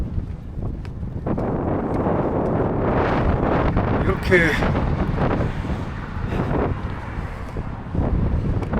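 Strong wind buffets the microphone outdoors during a long-distance walking trek, a steady loud roar that lasts throughout, with a voice speaking over it.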